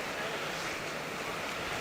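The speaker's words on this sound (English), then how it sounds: "Oh, check out the waterfall." A waterfall near Skagway, Alaska, heard from a roadside viewpoint as a steady, dense broadband rush of falling water, continuous and fairly distant, with some wind noise on the microphone and no talking.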